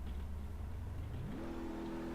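A Ford Powerstroke 6.0 diesel engine drives on in BeamNG.Drive, a steady low drone that climbs to a higher pitch midway and holds there, fairly quiet and with no talking.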